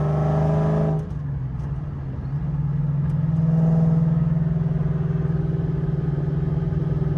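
A 2004 Ford Mustang Cobra SVT with a 750 hp engine drones at close range. Its tone drops at the shift to fifth gear, then settles into a steady low cruise.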